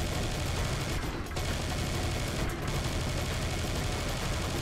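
Continuous dense gunfire from a big gun in the video game Serious Sam 3: BFE, a loud unbroken roar of rapid shots with two brief gaps.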